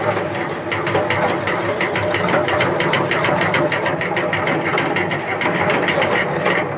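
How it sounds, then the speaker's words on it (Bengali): A honey extractor spinning honeycomb frames in beekeeping, a loud, steady mechanical whir with a fast rattling rhythm running continuously throughout, close by and without talking. "আবার মেশিনের ভিতরে দিয়ে আবার ঘুরলে দিলে মধুটা আবার পড়ে যাবে"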